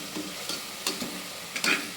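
Garlic and ginger-garlic paste sauté in groundnut oil, a continuous sizzle broken by a few scraping stirs of a spoon against the pan, close and moderately loud.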